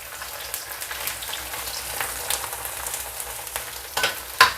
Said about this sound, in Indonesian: Aku mau goreng kerupuk.